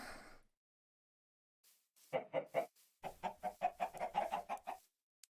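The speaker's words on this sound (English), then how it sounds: "Chicken." A video-game chicken clucks in a quick run of short, evenly spaced bursts, fairly faint and alone, following a brief earlier sound and a few scattered clucks.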